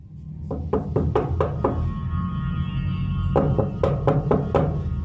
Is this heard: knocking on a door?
yes